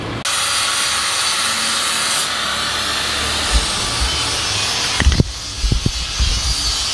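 Welding and angle grinding at small metalwork shops: a steady, loud grinding hiss runs almost the whole time, with a few sharp knocks and clanks near the end and no talking.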